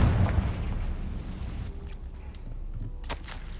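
A Confringo fire spell in Hogwarts Legacy bursts with a deep booming explosion at the start, rumbling away into a low roar, followed by a sharp crackling pop near the end.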